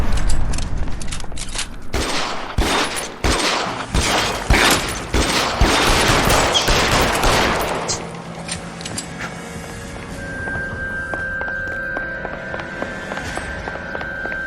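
A sustained firefight in L.A. Noire: loud rapid bursts of gunshots crackle one after another for about eight seconds, then die away into a quieter ambient hum with a faint steady tone.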